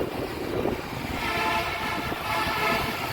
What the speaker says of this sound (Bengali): মেট্রো রেল যায়